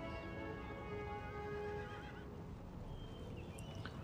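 Cavalry horses charge in Napoleon Total War, with hussars and lancers clashing in a mass cavalry battle: repeated neighs and whinnies ring over a dense, steady rumble of hoofbeats that carries through the whole stretch.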